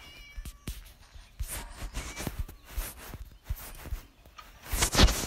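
A cat meows several times in the video game Scary Teacher, amid clicks and soft footstep-like thumps, the calls fairly quiet except for a louder one near the end.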